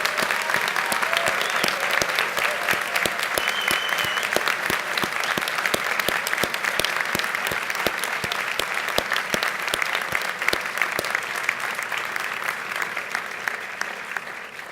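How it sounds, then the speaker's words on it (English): Steady, full applause from parents and friends for the graduating class of 2014 at an outdoor graduation ceremony, dense continuous clapping from a sizable crowd at even loudness throughout. "give one last round of applause to the class of 2014"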